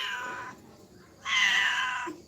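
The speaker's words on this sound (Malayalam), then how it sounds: "എന്താടാ പൂച്ച?" A cat meows twice nearby, a shorter call followed by a longer, louder drawn-out one, with little else around it.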